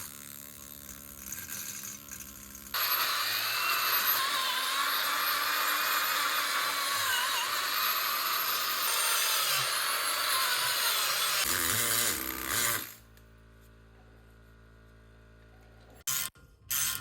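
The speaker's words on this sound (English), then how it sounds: "getting a needle scaler is a big investment. It's a game changer for stuff like this" A needle scaler hammers grime off old parts from a Frontier M226 axle, a steady loud buzzing rattle that runs for about ten seconds, then cuts out and leaves a quiet pause broken by a few short clanks.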